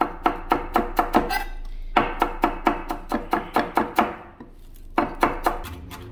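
Curly parsley being finely chopped with a knife: quick, crisp rhythmic knocks on a board in three bursts, close and distinct, with short pauses between runs.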